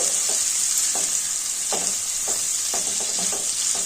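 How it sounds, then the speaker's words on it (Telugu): Cabbage, onion and green chillies frying in a pan, a constant bright sizzle with repeated soft scraping strokes of stirring, close and without speech. "క్యాబేజ్, ఆనియన్, పచ్చిమిర్చి కొంచెం వేగిన తర్వాత రవ్వ వేసి వేయించుకోవాలండి"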